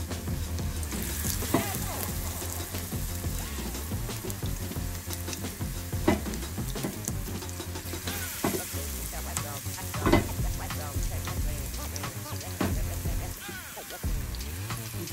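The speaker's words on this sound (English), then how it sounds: "খুব একটা বেশি ভাজা যাবে না, একটু ক্রিস্পি একটু নরম থাকবে এভাবে।" Shrimp tempura and vegetables fry in hot oil with a dense, continuous sizzle and crackle, and occasional stirring sounds, heard up close for about fifteen seconds.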